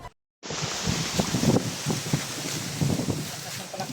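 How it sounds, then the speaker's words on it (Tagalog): Strong wind roars steadily into the microphone, a loud continuous rushing with gusty buffeting, after a brief moment of silence at the start. "Sobrang lakas ng hangin na."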